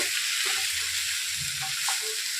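Spices and ginger sizzle steadily in a hot pan for a vegetarian cabbage curry, with a constant bright crackle and a few faint stirring scrapes and low clinks beneath.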